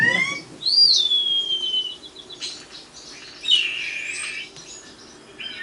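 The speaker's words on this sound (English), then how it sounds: "That sounds like a hawk, doesn't it?" A starling in the northeastern US gives a string of clear, hawk-like whistled calls: a sharp rising-then-falling note followed by softer, scratchy chirps, heard nearby and alone.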